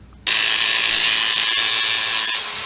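Prying open the stainless steel can of a Tesla lithium-ion cell: after a short quiet moment, a sudden harsh, high grinding scrape starts and holds steady and close for about two seconds before easing slightly.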